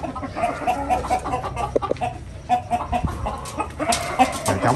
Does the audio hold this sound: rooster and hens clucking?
yes